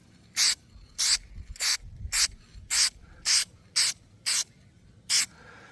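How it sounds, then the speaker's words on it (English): Nine short, sharp hissing bursts of a spray can spraying a rust hole on a Monte Carlo car, evenly spaced about half a second apart, close and loud with quiet gaps between. "Let's spray this little rust hole."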